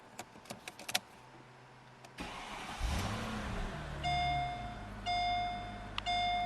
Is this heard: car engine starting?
yes